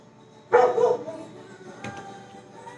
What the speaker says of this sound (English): And my dog is barking now because he sees my roommate.